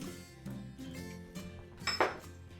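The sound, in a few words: whisking egg yolk for Caesar salad dressing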